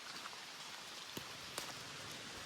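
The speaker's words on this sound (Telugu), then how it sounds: "ఈడు వచ్చిన తక్షణము వాన్ స్టార్ట్ అయిపోయా" Steady rain falls as a dense, even hiss, with a couple of brief louder drip or splash hits standing out from the wash.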